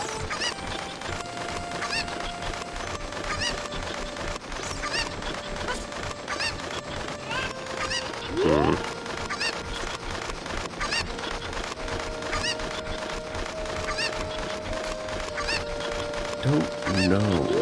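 Cuccos, the chickens of Zelda: Ocarina of Time, call out over steady game music, with one brief squawk near the middle and another near the end. The game audio plays alone, with no speech heard.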